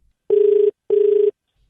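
Two steady, identical ringback tones from a redialed telephone call, each lasting about half a second with a short gap between them, clear and close with no talking.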